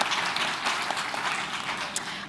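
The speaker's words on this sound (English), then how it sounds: "A round of applause, please, for him." Audience applause at an African forum on urban forests, a steady wash of clapping from a seated crowd lasting the whole moment, moderately loud with no voices over it.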